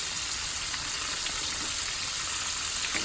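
Pieces of rattlesnake fry in hot oil with a steady, close hiss and crackle, an even sizzle running throughout with small pops.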